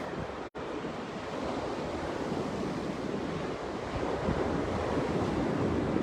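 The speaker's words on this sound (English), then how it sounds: "Don't you just love being down by the sea?" Sea waves surging and washing over the shore at Caves Beach, New South Wales, a steady broadband roar of surf with wind buffeting the microphone, continuous and fairly loud.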